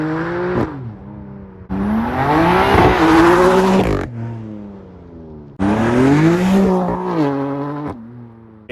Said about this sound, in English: I just did some burnouts